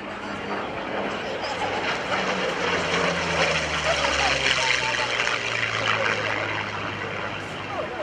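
A Yak-9 warbird's propeller engine drones steadily at a distance at an airshow, its pitch slowly sliding lower as it passes, with a broad rushing roar.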